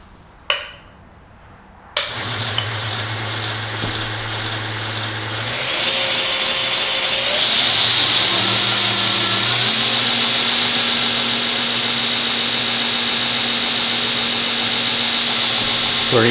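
A Northridge Tool 2x72 belt grinder starts with a sharp click, then its motor hums and spins up, rising in pitch to a loud, steady whine that holds to the end, with a few clicks early on.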